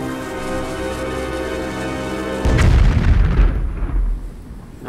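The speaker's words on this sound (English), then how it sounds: "Now that's what I call an explosion." A brewed TNT barrel blows up in the video game Surface 6: Game of Gods, clearing boulders: a single loud, deep blast that cuts in over steady music, then rumbles and fades over a couple of seconds.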